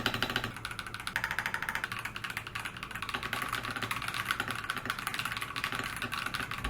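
Typing on a mechanical keyboard with pre-lubed switches and RGB-lit keycaps with transparent lower halves, a steady stream of muted, rapid keystrokes running continuously at moderate level.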